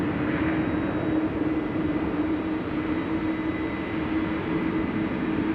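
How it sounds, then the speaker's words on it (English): Jet airplanes take off toward the south at Amsterdam Schiphol Airport, a steady distant engine roar with a low hum that holds evenly throughout, no voices over it. "Airplanes taking off to the south."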